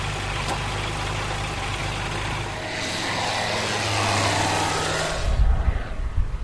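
A small light propeller aircraft at a Bulgarian air show marking the anniversary of Bulgarian aviation, its engine droning steadily and fairly loud, swelling briefly near the end with gusty wind-like rumble.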